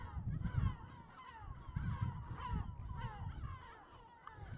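A large flock of seabirds near a port on the French Mediterranean coast calls in repeated harsh, overlapping squawks close by, loud and continuous over a low rumble of wind or water.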